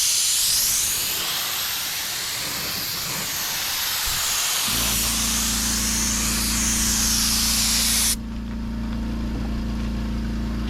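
A spray gun lays a coat of paint on a 2006 Porsche Cayenne body, giving a loud, steady hiss of air up close that runs for about eight seconds, with a compressor hum joining partway and carrying on after the spray cuts off.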